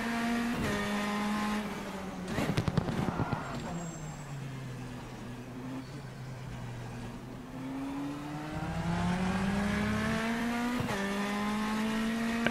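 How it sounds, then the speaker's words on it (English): A race car in rFactor 2 revs and shifts through gears, the engine note rising and falling with sharp downshift blips and throttle stabs, loud and continuous across the whole stretch, with brief tire or mechanical noise mixed in. "just give the throttle a little stab as you're downshifting"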